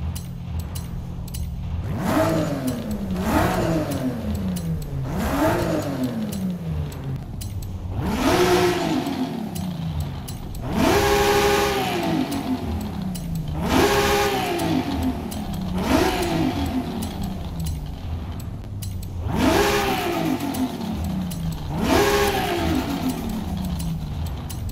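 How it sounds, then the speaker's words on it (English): A widebody MK4 Toyota Supra engine in Forza Horizon 5 revs repeatedly in sharp bursts, each climbing in pitch and dropping back, about ten revs in steady succession with a constant idle hum between them. "I'm actually going to rev after every upgrade so you can see how dramatically the car changes"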